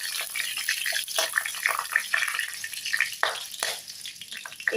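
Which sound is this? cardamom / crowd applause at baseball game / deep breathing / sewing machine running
cardamom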